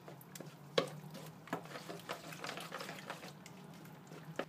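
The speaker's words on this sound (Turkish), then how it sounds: "Şimdi bir tahta kaşık yardımıyla erikleri eziyorum." Cooked red plums for compote are pressed and mashed with a wooden spoon, giving soft wet squelches and scraping with a few sharper knocks, quiet and close, with no talking.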